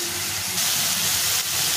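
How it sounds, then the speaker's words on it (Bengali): Water splashes into a hot pan while potol paneer cooks, giving a loud, steady, close sizzling hiss of steam throughout, with no talking. "একটু ভালো করে কষিয়ে একটু জল দিয়ে দেবো"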